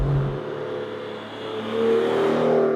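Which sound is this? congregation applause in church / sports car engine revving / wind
sports car engine revving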